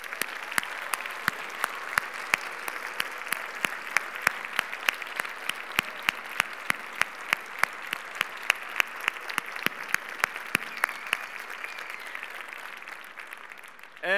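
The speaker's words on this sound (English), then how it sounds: "It's time to just give a little applause for yourself." An audience applauds at a luncheon honouring student finalists at a robotics championship, a steady spread of clapping with sharp individual claps standing out, lasting throughout and thinning slightly toward the end.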